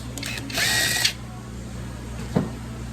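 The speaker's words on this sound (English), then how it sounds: "So we use a T27. Take off the two bolts." A T27 Torx driver loosening bolts on the carburetor of an Echo PB-580T backpack blower: one short, bright whirring burst, then a single sharp click, close up in a quiet room.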